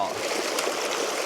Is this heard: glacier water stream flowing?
yes